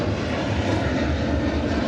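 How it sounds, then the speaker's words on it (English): A jet plane flying overhead above a New York City waterway near North Brother Island, a steady broad roar that fills the whole moment, loud and constant with no voices. "I'm sure you can hear that jet flying overhead."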